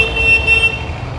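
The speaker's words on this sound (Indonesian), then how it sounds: "Jalanan seperti biasa masih ramai dengan suara klakson." Car horns toot in a busy street at a junction near a Ganesha temple in Koppa, India, a brief loud blare over steady traffic rumble.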